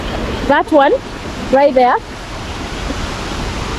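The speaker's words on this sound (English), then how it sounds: "So behind me is the mini waterfall," A small waterfall in a Kenyan village in Kiambu County gives a steady broadband rush of flowing water, loud and continuous, with someone talking briefly over it in two short bursts before the water carries on alone.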